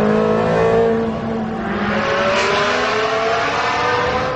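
A Ferrari 360 Challenge Stradale race car engine revs loudly and close, its high harmonic whine rising and falling in pitch as it is blipped, with no talking.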